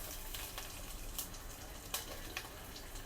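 Garlic, mustard seeds and cumin sizzle in hot oil in a home kitchen, a steady faint crackle with a few sharper pops and spits standing out through the short stretch.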